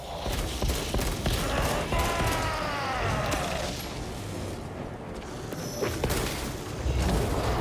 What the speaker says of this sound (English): Oh, yeah, shoot them again.